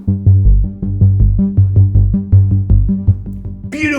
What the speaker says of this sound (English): Beautiful warm bass ARP sound.